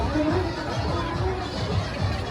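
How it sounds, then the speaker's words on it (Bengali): Crowd hubbub at a nighttime fair in Bangladesh, with steady overlapping chatter and murmur close around, continuous throughout with no single voice standing out. "ভিউয়ার্স এখানে অনেক ভিড়"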